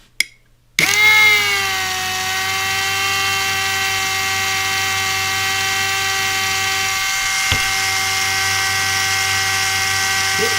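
A KAMOLEE cordless drill used as an ice auger switches on and runs at first speed, a steady high motor whine held for about ten seconds after a short start, close and alone.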